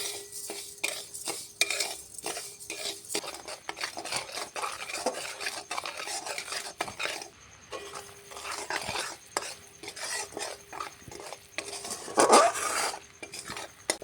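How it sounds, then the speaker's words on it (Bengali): Sugar caramelising in a pan over a medium-low gas flame is stirred continuously with a spoon, giving a rapid, scraping rhythm with occasional metallic clinks, close and clear without speech. "চিনিটাকে ক্যারামেল বানিয়ে নেব"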